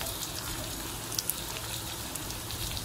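Vegetables with salt sauté in a tiny miniature kitchen pan for red cabbage fried rice, giving a steady, even sizzling hiss throughout with a couple of faint ticks.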